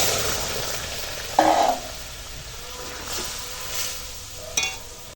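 Boiled moong dal goes into a hot pan and cooks, a brief louder splashy burst followed by a soft continuous hiss and faint stirring sounds, close up with no talking.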